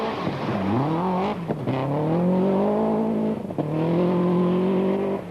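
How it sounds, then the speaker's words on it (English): A rally car on a stage of the 1991 Lombard RAC Rally, its engine loud and close, revving up through the gears with brief dips at shifts before climbing again, alone without talk. "And you can tell from this shot just how conservatively Sainz was driving."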